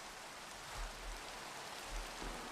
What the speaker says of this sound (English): Is it raining? Yeah,